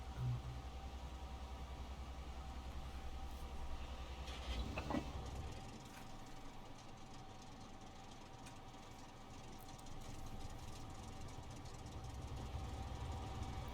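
Strv 103-0 tank in World of Tanks straining its engine while pushing a heavier 60-ton tank, a low continuous rumbling drone with a brief knock partway through, steady and moderately loud.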